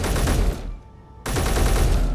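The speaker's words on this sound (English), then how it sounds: "Can't tell if that's a turret. It definitely hit us though." Turret gunfire in Space Engineers, a loud dense rattle of rapid shots that cuts out briefly and then resumes with the same intensity.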